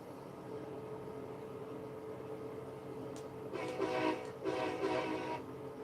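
Two train horn blasts from a locomotive in the railroad video game Southline District, sounding loud and close over a steady engine and rail rumble, the second blast following shortly after the first.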